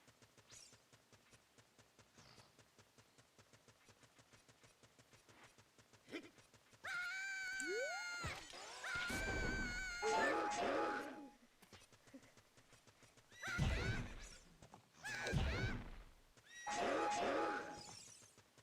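Horses in the Ship of Harkinian video game, with quick hoofbeats running under the opening stretch, then several loud, drawn-out neighs and whinnies that come in repeated bursts close up.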